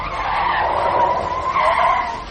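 A car brakes to a stop in an audio drama, a loud sustained tire squeal and skid lasting about two seconds, close and alone without any talk.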